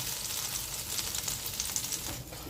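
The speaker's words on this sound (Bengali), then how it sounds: "এবার অল্প একটু জল ছড়া দিয়ে দিলাম" Water sprinkled on a hot dosa pan hisses in a dense, continuous sizzle with small crackling bursts, fairly close and even throughout.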